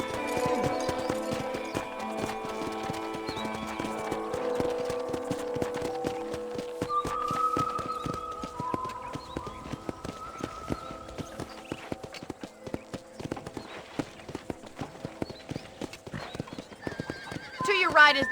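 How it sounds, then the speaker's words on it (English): Horse hooves clip-clop at a steady walking pace in Red Dead Redemption, with a whinny mixed in and a person talking over the hoofbeats and a musical backdrop. "I picked out a fine horse for you."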